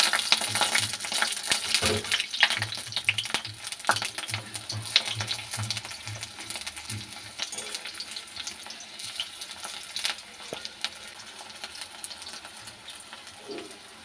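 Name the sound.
gram flour fritters (bora) frying in hot oil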